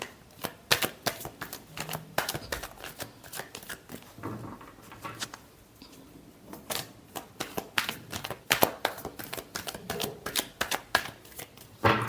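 A deck of tarot cards is shuffled repeatedly up close, with quick crisp riffles and flicks in irregular bursts and short pauses between them.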